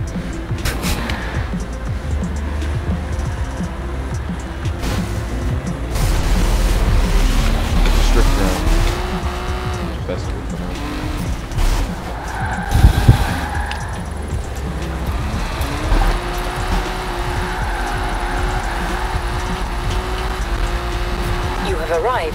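A drift car in Forza Horizon 4 revs hard with a steady engine drone and rising, sliding tire-squeal tones that stretch across the run, peaking in a sharp burst midway, then carrying on through long drifts.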